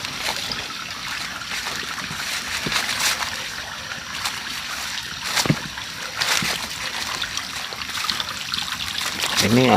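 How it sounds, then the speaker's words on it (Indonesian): A forest stream's water flows and trickles steadily, with occasional splashes and footsteps, close by and fairly loud throughout. "Ini aliran sungai, aliran apa ini?"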